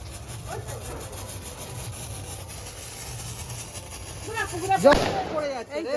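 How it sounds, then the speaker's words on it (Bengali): A tubri fountain firework burns at a family celebration, a steady hissing spray under children and adults chattering, with a louder crackling surge near the end. "দারুণ হচ্ছে দুবড়িটা"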